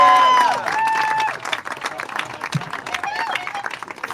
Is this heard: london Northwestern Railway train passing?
no